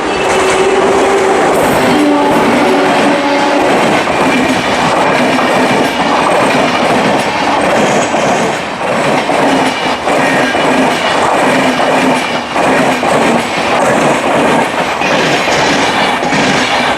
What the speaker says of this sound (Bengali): এখন শেওড়াফুলি থেকে যেই লোকাল ট্রেন পাবো সেটা ধরে আপাতত যাব হাওড়াতে।